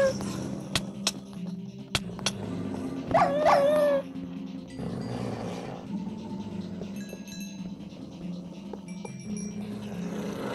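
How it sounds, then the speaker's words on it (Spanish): Several dogs yip, bark and whimper in a spooky video game mansion, with short sharp calls and a brief rising whine cluster over steady game music and ambience; the barks stay fairly distant and intermittent. "Qué tenebroso, un montón de perros afuera y no me pueden atrapar"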